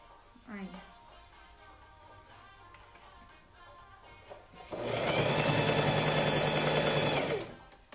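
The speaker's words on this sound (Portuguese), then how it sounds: "Vocês sabem que eu tô aqui costurando" A sewing machine stitching a blouse runs in a loud, steady burst of rapid mechanical whirring up close, following a stretch where someone talks quietly.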